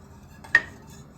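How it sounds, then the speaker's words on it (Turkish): Utensil stirring a magnolia dessert mixture in a bowl: one sharp clink of metal against the bowl stands out amid quiet, faint scraping, no talk. "Karıştırmaya devam edin şefim"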